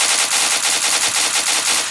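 Sustained automatic machine gun fire in the Dude Theft Wars video game, loud and continuous with rapid, closely spaced bursts and no voices.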